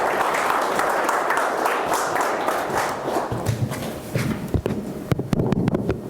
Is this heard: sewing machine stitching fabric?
no